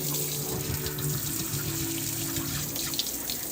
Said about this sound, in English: So we start with cold water to stop the soda ash from activating